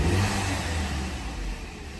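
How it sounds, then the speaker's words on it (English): A VW Audi Gen 3 1.8 TSI engine, recently fixed after a misfire, gets a light rev that swells briefly to a rumble and then eases back down, close and moderately loud. "We can rev it a little, see how it sounds."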